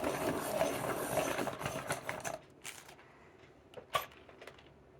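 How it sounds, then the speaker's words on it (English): A Dahle 133 manual pencil sharpener grinding a pencil: a raspy, whirring crank-driven cutting sound for a couple of seconds, then quieter scraping and a few light clicks, close and faint. "We'll go ahead and finish sharpening it."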